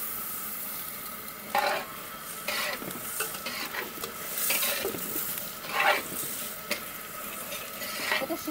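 Parboiled jirakathi rice for khichuri is stirred in a pot over the heat, giving a soft sizzle broken by repeated scraping sweeps of a spatula and occasional light clinks.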